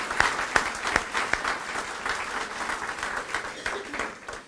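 An indoor crowd at a public library ribbon cutting gives a round of applause, with several sharp, close individual claps standing out at the start before the clapping settles into a softer, uneven patter.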